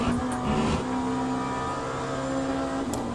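An LMP2 prototype race car in the Le Mans Ultimate sim racing game drones steadily at high revs, a loud sustained engine tone with slight pitch shifts and brief tyre noise, continuous with no talk.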